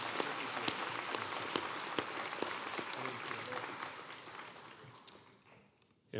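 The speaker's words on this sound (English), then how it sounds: "Please help me give our dignitaries a big round of applause for their support of Ferguson High School" Audience clapping at a high school graduation ceremony honoring dignitaries, a sustained, fairly loud wash of applause that tapers off and fades near the end.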